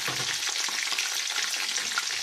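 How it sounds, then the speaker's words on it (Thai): Sun-dried marinated pork fries in hot oil with a dense, steady sizzle and crackle, close up and continuous, with no voices. "อีกชิ้นสองชิ้น ใส่ลงไปค่ะ ทอดไปเลยนะจ๊ะ"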